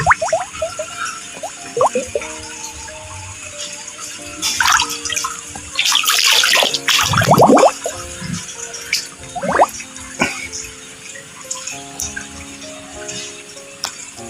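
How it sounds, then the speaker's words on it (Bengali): Water running into a pipe being filled for a Shing fish tank, a loud rushing and gurgling flow with rattling knocks and splashes throughout, close up, no speech. "পুরো পাইপটার মধ্যে জল ভরে নেব"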